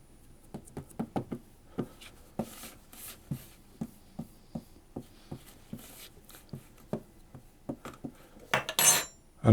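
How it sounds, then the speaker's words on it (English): The back of a metal spoon presses plum crumble cake mixture into a pan, with soft irregular taps and scrapes, close and quiet, alone. "So I'm just using the back of a spoon to press it down."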